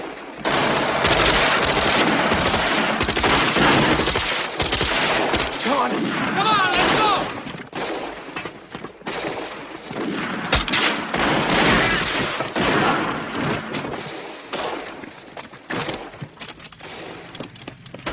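Battlefield gunfire from a 1977 World War II film about an assault on a bridge: rapid rifle and machine-gun bursts with heavy booms, loud and sustained, while soldiers shout over the din.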